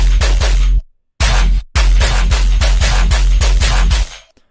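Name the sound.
layered synthesized machine gun sound effect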